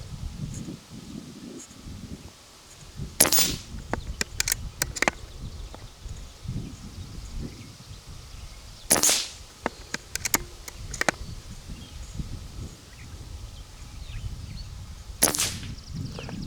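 A Barra 250z air rifle fires at metal swinging targets outdoors. Several sharp cracks ring out at intervals, each followed by quick metallic pings, over a low rustling background.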